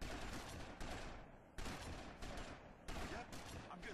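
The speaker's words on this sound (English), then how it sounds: "Yep, I'm gonna shoot you." Gunfire in the PSP game GTA Vice City Stories during a last-stand shootout, with dense, loud bursts of automatic shots repeating in rapid volleys across the whole stretch.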